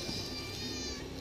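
A cat meows faintly once, a drawn-out tonal call lasting about a second over a quiet indoor background.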